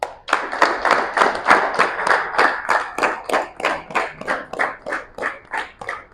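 A boys basketball team claps in unison, about fifteen sharp, evenly spaced claps in a steady rhythm, loud and close, with no talking.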